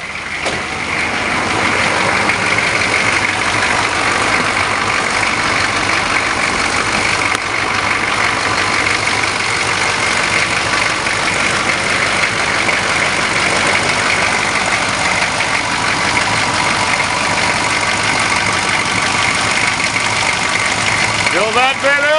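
A diesel engine idling steadily after a cold crank, loud and close with a constant low rumble throughout, while people talk over it.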